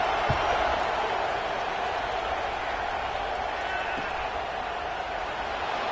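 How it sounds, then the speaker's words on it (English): A college football stadium crowd, NC State against Washington State, keeps up a steady, dense roar just after a score, a broad continuous buzz with no breaks. "this crowd is buzzing after that last score"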